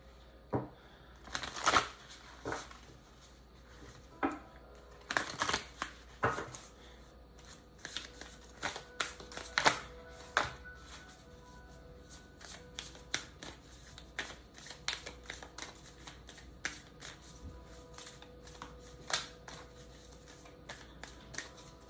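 Tarot cards are shuffled and pulled by hand close up, giving bursts of riffling and flicking with sharp snaps of single cards between quieter stretches. No one speaks.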